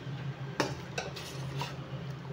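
A spoon stirs a sweet ragi drink in a pot, making a few quiet scrapes and light clinks against the metal over a low steady hum. It is faint and close, with no speech.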